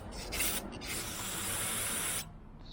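Brake cleaner sprays from an aerosol can onto the gearbox drain magnet of a 2021 Can-Am Outlander 650 ATV, a close, loud continuous hiss in short bursts before stopping.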